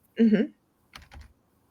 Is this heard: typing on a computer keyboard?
yes